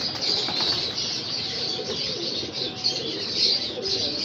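A pigeon being handled and shown up close, with soft cooing and rustling over a steady bright hiss of background noise, fairly loud and continuous, no one speaking.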